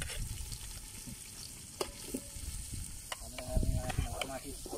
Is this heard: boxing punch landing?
no